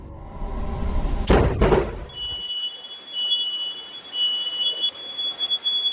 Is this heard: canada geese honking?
no